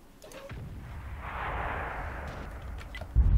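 Artillery shot firing in the World of Tanks video game: a single sustained, rumbling roar swells and fades over a few seconds, ending in a sharp low thump.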